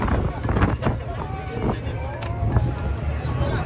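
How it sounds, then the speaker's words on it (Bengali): Strong wind sweeps across Vivekananda Rock in Kanyakumari after a launch ride, buffeting the microphone with steady low roaring gusts while people talk nearby. "প্রচন্ড হাওয়া, আমরা চলে এসেছি বিবেকানন্দ রকে।"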